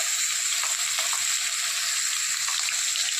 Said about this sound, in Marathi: आता आपण फोडणी करून घेत आहोत।